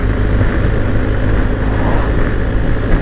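A 2022 BMW R1250GS motorcycle engine purring at about 3,500 rpm while riding, heard as a loud, steady drone mixed with heavy wind rush throughout, with no talking.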